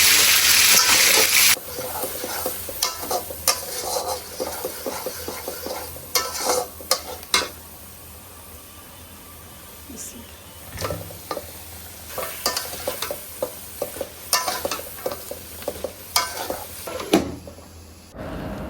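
Food frying in oil in a home kitchen pan, a steady sizzle punctuated by repeated scraping stirs and clinks, loud and close, with a brief louder burst at the start.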